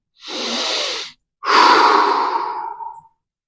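Two deep breaths during a slow neck stretch: a steady inhale, a short pause, then a longer, fuller exhale that fades out, close and clear with no talking.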